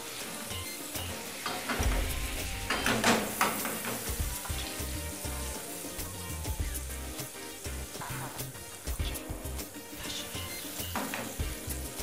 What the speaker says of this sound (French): vous voyez qu'il y a le son qui commence à sortir. Ça veut dire que la viande est en train de cuire à l'intérieur.